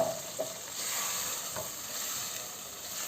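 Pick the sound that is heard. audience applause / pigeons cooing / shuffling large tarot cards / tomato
tomato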